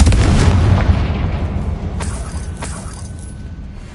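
A Confringo fire spell detonates in Hogwarts Legacy, a loud booming blast that decays into a rumbling tail, with a couple of sharper crackling bursts trailing off over a few seconds.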